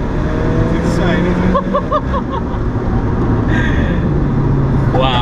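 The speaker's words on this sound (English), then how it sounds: "Do a race launch. Oh, when those turbos kick in." Alfa Romeo 4C turbo sports car doing a race launch, heard from inside as a steady, loud rush of engine and road noise that holds throughout, with a brief voice in the middle.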